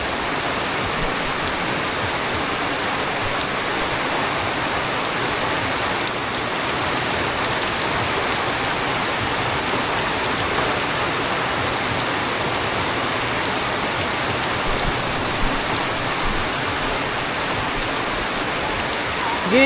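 Steady rain falls hard and close for the whole stretch, a dense continuous patter on surfaces with no voices and no break in the downpour.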